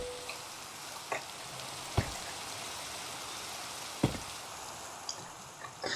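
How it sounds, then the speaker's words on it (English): Steady ambient rain from Minecraft, a continuous broadband hiss with occasional sharper drop-like ticks, fairly soft and heard alone without talk. "I love a lot of ambient rain noises in a lot of different games."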